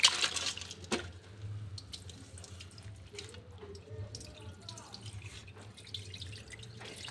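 Sundarbans crabs being rinsed under running water, with a steady splashing and trickling wash and scattered drips carrying on throughout.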